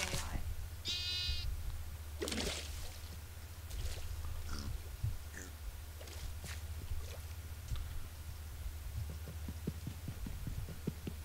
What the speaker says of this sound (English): Did you spawn, like, or did you mate some of these sheep? They have baby sheeps.